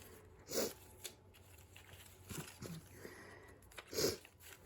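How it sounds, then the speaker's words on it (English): Two short, soft sniffles stand out from a quiet background, with faint small rustles between them. No one speaks. "excuse my sniffles"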